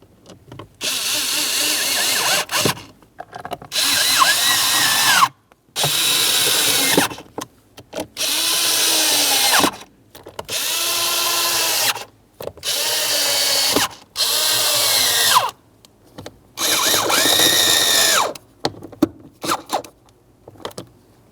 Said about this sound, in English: Now we can start in our mounting screws.